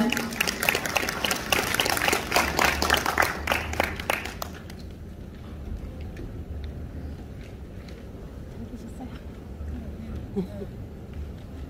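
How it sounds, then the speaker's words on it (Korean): At a book launch event, an audience gives a burst of applause that lasts a few seconds and then stops abruptly, leaving quiet room tone with faint background noise. "여러분들 박수로 맞춰주시기 바랍니다."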